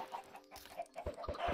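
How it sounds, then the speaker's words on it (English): Chickens in the Minecraft video game cluck in a short series of soft, clipped bursts, several overlapping calls close together, quiet and with no talk. "why these chickens are all hoarded in this corner over here"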